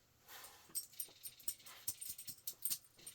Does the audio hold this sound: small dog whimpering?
yes